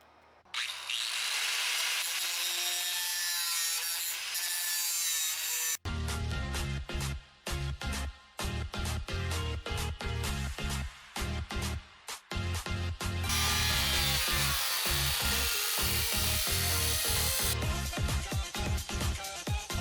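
Power cutting tool slicing through the rear floor panel of a wrecked Tesla Model S P100DL, with a loud, close, sustained harsh rasp that breaks into rapid choppy bursts and then returns to steady grinding.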